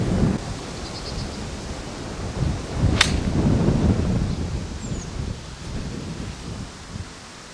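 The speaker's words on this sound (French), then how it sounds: "Golf shot." Golf club striking a ball with a full 50-degree wedge shot on the Rimaison golf course, a single sharp crack standing out against steady outdoor wind noise.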